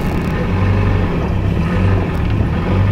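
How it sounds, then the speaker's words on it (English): A Mazda Miata with a manual-swapped transmission and no shifter fitted gives off a loud, steady mechanical drone, a continuous low whine with little variation that stays close and unbroken, with no talking. "The trans is so loud with no shifter thing."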